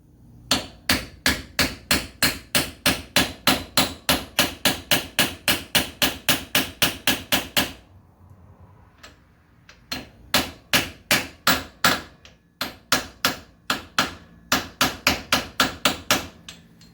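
Steady, rapid metal hammer blows on a seal driver set a rear axle seal on a 1968 Ford Mustang, a long run of evenly spaced strikes, a brief pause, then more bursts of hammering up close.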